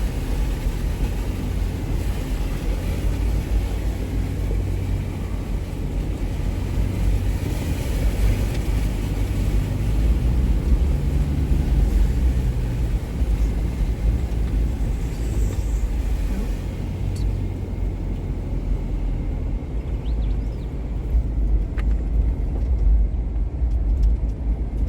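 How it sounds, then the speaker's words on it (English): A car comes the other way and passes on an outback road, heard from inside a moving vehicle over a steady, loud engine and road rumble. "this car coming the other way"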